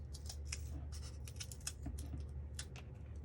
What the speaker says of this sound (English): But cut the end off this domino